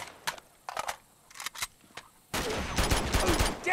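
Gunfire in the video game Uncharted 2: Among Thieves on PS3: a few sharp single shots first, then a dense, loud burst of rapid automatic fire and crackling impacts.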